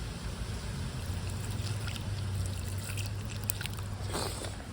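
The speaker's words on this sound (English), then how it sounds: "Let's go ahead and water this bad boy." Water pours steadily onto the soil around a newly planted young tree, a continuous close trickle and splash lasting several seconds with no talking.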